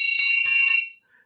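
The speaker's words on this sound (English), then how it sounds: "Let's ring that bell," A single bell rung once, a bright ringing tone that sustains briefly and then fades to silence within about a second, loud and close with no talk.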